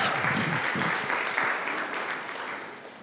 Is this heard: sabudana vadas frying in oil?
no